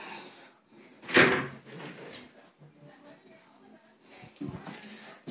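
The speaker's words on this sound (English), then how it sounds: "it's a door. I'll open it up for you." A glass shower door in a renovated bathroom swings open with a sudden sharp knock or thud, followed by faint rattles and shuffling in a quiet room.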